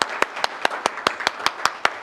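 Audience at a city council policy forum applauds the panelists, a sparse, steady round of hand claps from a few people at an even rhythm, fairly close and clear with no talk over it.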